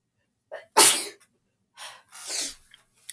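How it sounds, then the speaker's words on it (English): A single loud, explosive sneeze with a sharp intake of breath before it, followed by heavy breathing and another breathy burst. "I'm gonna sneeze again, oh my gosh."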